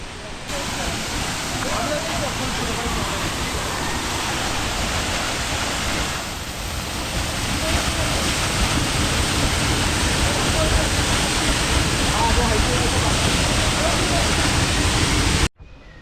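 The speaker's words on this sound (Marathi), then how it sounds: "वरून पडणारा पाणी बघा धबधबाच्या रूपात खाली पडतोय बघा" Constant roaring rush of a waterfall at Raigad Fort, broad and loud, continuing unchanged throughout with only a brief dip and a sharp cut at the end.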